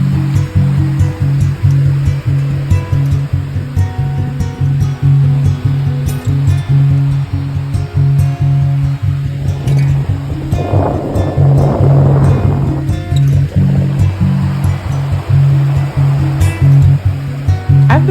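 Ocean waves roll onto a beach in Dar es Salaam, making a loud, continuous rushing wash that surges and builds around the middle, mixed with wind noise.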